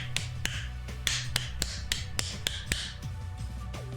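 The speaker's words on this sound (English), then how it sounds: "That's actually a nice beat, the 3-3-7 rhythm." Sharp hand claps or knocks in a 3-3-7 rhythm, about a dozen crisp close strikes spaced out over a steady low hum, with no talking.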